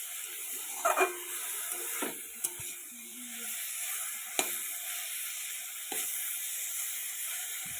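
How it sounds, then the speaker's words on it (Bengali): Boiled greens are stir-fried in a pan, giving a soft, fairly faint sizzle and hiss broken by a few scattered clacks and scrapes from the stirring spoon; no voices. "এবার আমি নাড়াচাড়া করে ভেজে নেব"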